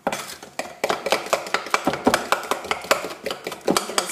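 A wooden spoon beats chocolate chip cookie dough in a bowl, making a quick, steady run of close knocks and thuds against the bowl, each stroke distinct.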